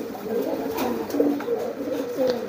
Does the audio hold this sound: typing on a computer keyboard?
no